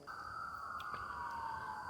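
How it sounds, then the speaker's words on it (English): A single siren wails in the distance, heard from a campsite on a backpacking trail, a thin, faint, slowly falling tone held steady over quiet night air. "There's a lot of sirens out in the distance."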